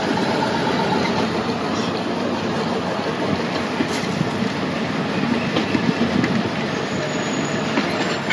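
A 100-year-old train runs from Ambarawa to Tuntang, its steady rumble and rail clatter continuous and close throughout, with faint wheel squeal and no talking.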